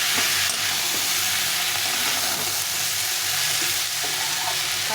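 Mixed vegetables sizzle steadily in a pan with a paste of green chilli, cumin and ginger, a dense continuous frying hiss with faint stirring scrapes and no voices.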